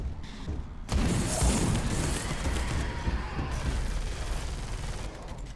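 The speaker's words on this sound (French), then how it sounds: "Oh le fusil à pompe, putain, j'adore." Pump-action shotgun blasts in Space Hulk: Deathwing, a dense run of heavy booming gunfire with mechanical clatter, loud and sustained with no gaps, following a short quieter lead-in.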